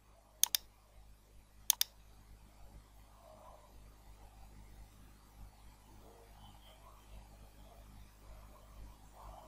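A computer mouse clicks twice, each a quick double click a second or so apart, crisp and close against a quiet room hum.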